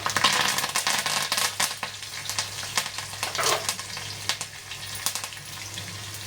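Garlic, curry leaves and onion sizzle and fry in a pan for a Marathi ridge gourd bhaji, a close, steady crackle with the sharp pops and spatters of spoon stirring.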